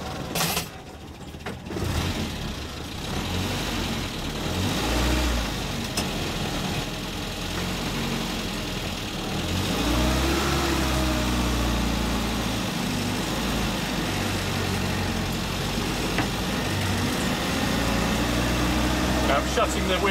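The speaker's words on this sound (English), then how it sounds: "The engine is pretty noisy, as is the transmission." A Land Rover Series Lightweight is heard from inside while driving, with its engine and transmission droning loudly and continuously and the pitch shifting as it moves. A person talks over the noise.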